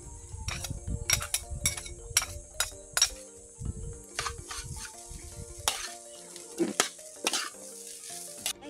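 Shrimp frying with java rice in a pan, a steady hiss of sizzling broken by repeated sharp clinks and scrapes of a utensil stirring against the pan, close and fairly quiet.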